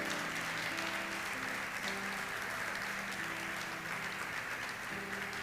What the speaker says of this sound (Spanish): Fuerte el aplauso entonces para Cristo.